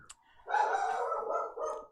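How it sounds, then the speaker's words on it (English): A pet dog barks in a sustained, agitated burst of rapid yelps close by, with a short pause before a final bark, no talking over it. "I don't know why my dog's barking like a crazy dog right now"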